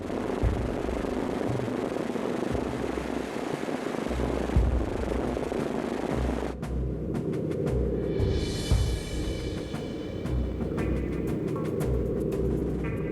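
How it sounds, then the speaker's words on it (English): A World War II American bomber drones in flight, a steady loud engine roar filling the cabin, its tone shifting partway through as the noise thins and high whining engine harmonics come forward. "It's his first ride in an American bomber."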